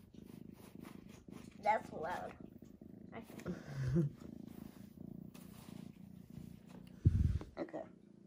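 A cat's low, rumbling purr runs steadily beneath close talking, with a couple of brief louder bursts of voice.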